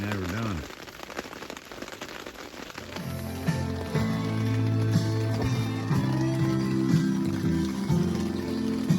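Rain falls steadily on a campsite during a thunderstorm, a dense patter heard close by, with the crackle and pop of a campfire being kept alight, and someone talks over it partway through.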